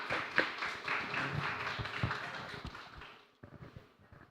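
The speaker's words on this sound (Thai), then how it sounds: "ขอเสียงปรบมือให้กับรัฐและซีซ่าชั้น 9 ด้วยค่ะ" Audience clapping for two grade 9 student presenters at a school problem-based learning presentation, a moderate burst of many hands that thins out and fades toward the end.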